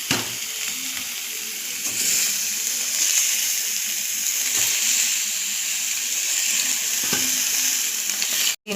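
Pieces of fish frying in a pan with turmeric and spices for Telangana-style chapala pulusu, a steady loud hiss and crackle running throughout with occasional stirring scrapes, cutting off abruptly at the very end.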